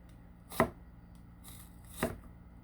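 A knife slices a red onion very thin on a board for a wedge salad, giving two crisp, separate chops about a second and a half apart, close and clear against a quiet room.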